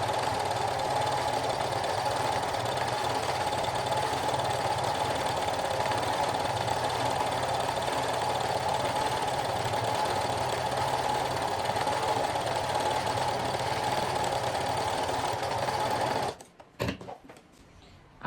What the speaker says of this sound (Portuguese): Esse lado aqui também vou passar